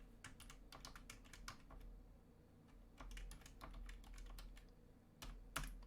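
Typing on a computer keyboard, quick bursts of crisp clicking keystrokes separated by short pauses, close and fairly quiet with no talk.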